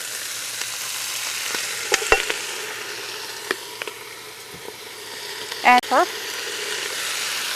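Wood ear mushrooms stir-fry with soy sauce in a hot pan, a soft steady sizzle with a few sharp clinks and a louder scraping burst near the end, while a person speaks briefly.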